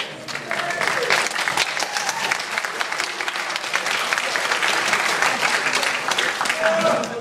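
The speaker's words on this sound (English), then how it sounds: "Applause is legal." A school audience at an all-night senior party claps steadily for the full stretch, a dense, continuous roar of applause with a few voices mixed in.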